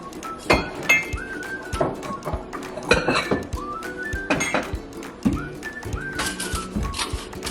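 Dishes clink and knock in a home kitchen as a bowl is fetched, with sharp clatters and thuds spaced unevenly among faint whistling tones.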